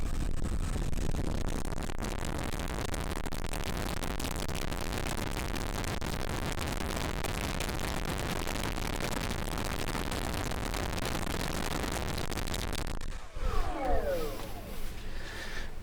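A Rimfire 46 brushless motor running flat out on a thrust test stand, a loud continuous roaring whine with propeller wash that holds steady, then cuts off sharply near the end as it winds down.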